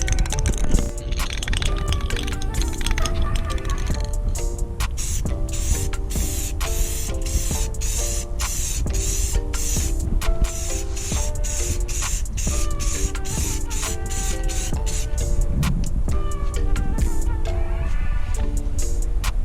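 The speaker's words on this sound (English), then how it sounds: "Let's put some clear coat." A spray can of 2K clear coat hisses steadily as it is applied to a 2007 Acura MDX headlight, close and continuous. Music with stepped melodic notes plays loudly over it for the whole stretch.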